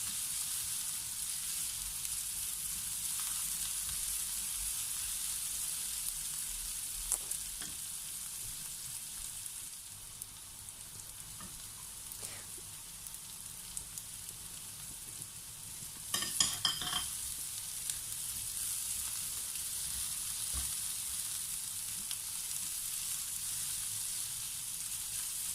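Garlic sizzles in a pan for a mung bean (monggo) dish, a steady, even hiss throughout, with a brief clatter of a utensil against the pan partway through.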